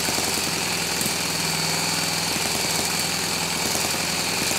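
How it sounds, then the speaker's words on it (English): A small four-stroke model internal combustion engine runs steadily close by, a continuous buzzing drone with even, rapid firing pulses and no talking over it. "I do believe that the timing of this engine is set for it to run in a clockwise direction"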